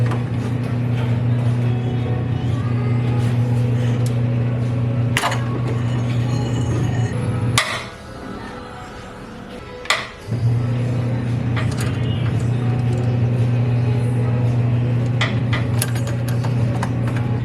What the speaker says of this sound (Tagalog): So ngayon try ko ng luwagan nitong alternator pulley.